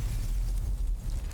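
A deafening explosion rumbles in a Girls' Frontline 2 story scene amid rubble and fighting, a dense low roar that fills the whole short moment with no gap.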